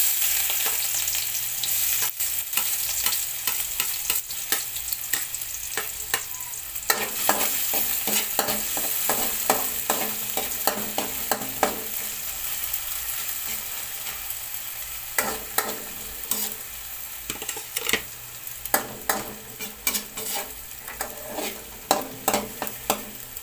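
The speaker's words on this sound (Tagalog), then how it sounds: "Mga katry, lagyan na po natin ating pong sibuyas." Chopped onions sizzle in a hot pan for a home-cooked pork giniling dish, a steady frying hiss broken by repeated scraping and clinking as a utensil stirs them.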